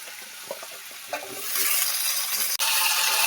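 Pumpkin and malabar spinach being stirred as they fry in a pan, a soft sizzle rising in the second half with scraping stir strokes and a brief clink, no talking.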